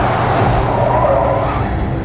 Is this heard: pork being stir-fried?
no